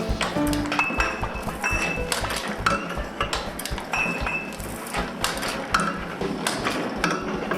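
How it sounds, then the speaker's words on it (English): Handmade ceramic genever bottles are struck and clinked, giving a run of bright pings and clinks with duller knocks, moderately loud and irregular over a busy background. "Now, have they broke any bottles hammering away at them like that?"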